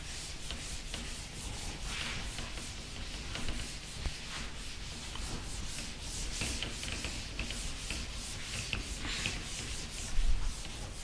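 Writing is rubbed off a board with a steady, scratchy back-and-forth scrubbing that runs continuously at close range, with a slightly louder rub near the end and no talk.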